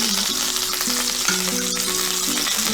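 Salmon fries skin side down in a pan with a loud, steady sizzle that holds close and constant throughout, backed by a faint musical tone.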